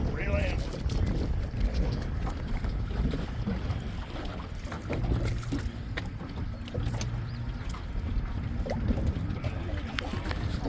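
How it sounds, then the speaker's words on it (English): Strong wind on Truman Lake while trolling from a fishing boat, a steady loud buffeting roar across the microphone, with people talking over it. "Wind's playing havoc with us."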